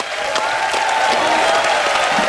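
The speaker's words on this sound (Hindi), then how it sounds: "सलमान भाई, सोहेल भाई और अरबाज भाई के लिए जोरदार तालियां हो जाएं" A television studio audience on a comedy talk show gives loud, sustained applause, a thick even roar of clapping with a faint tonal hum running underneath.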